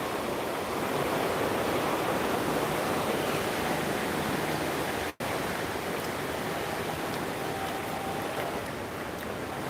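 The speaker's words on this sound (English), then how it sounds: "Truly, this is a lot of water." Floodwater of the Hope River rushing beneath a bridge after Hurricane Melissa, a loud continuous roar of broadband noise that holds steady throughout, broken only by a momentary dropout near the middle.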